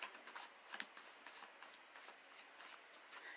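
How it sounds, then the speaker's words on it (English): Tarot cards shuffled and pulled from the deck, a quick series of crisp riffling flicks and soft slaps, close and fairly quiet, with no talking. "I'm gonna pull these last two cards before I cut it off."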